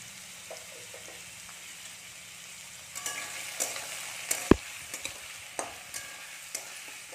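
Potatoes frying in oil with turmeric, salt and slit green chillies: a low, quiet sizzle that picks up halfway through with a series of close clicks and scrapes from stirring, plus one sharp knock, and no talk.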